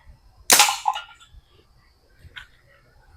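A butane gas toy gun fires a 6mm steel ball at cans outdoors, giving one sharp, loud pop followed by a short rattle and a fainter knock about two seconds later.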